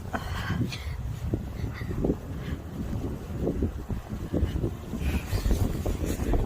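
Strong wind blows outdoors at night, buffeting the microphone with continuous low rumbling gusts that swell and ease, loud and close throughout.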